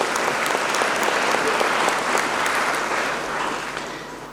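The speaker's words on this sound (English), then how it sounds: "He deserves a round of applause in this historic large hall." A packed audience claps in a large historic hall during an investiture ceremony, a thick, even wash of applause that tapers off slightly toward the end.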